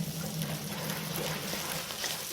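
A single clove of garlic sizzles in a pan while being fried until crisp and fragrant for a village-style spaghetti, giving a steady, soft crackling hiss with no voices.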